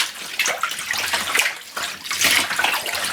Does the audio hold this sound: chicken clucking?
no